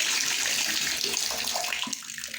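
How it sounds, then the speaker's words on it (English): Cold water pours steadily from a shower in a bathroom with no hot water, a dense, loud hiss that eases slightly toward the end. "The cold water works just fine."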